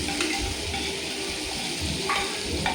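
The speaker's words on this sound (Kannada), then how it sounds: "ಈಗ ರುಬ್ಬಿಟ್ಕೊಂಡಿರೋ ಮಸಾಲೆನ ಅದಕ್ಕೆ ಆ್ಯಡ್ ಮಾಡಿ." Ground masala stirred into a sizzling frying pan while cooking soya palav: a steady close frying hiss with soft scraping stirs and a few light clinks throughout.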